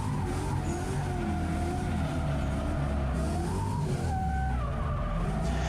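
A drifting car's tires squeal continuously under a loud, droning engine, with the pitch of the squeal rising and falling through the slide and a sharper screech near the end.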